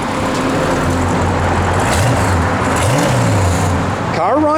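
A 1971 Buick Gran Sport convertible's engine runs with a steady loud rumble close by, its pitch rising and falling in a couple of brief revs, with voices talking over it.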